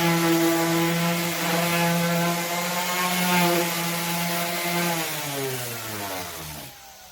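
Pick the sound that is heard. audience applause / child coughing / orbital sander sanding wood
orbital sander sanding wood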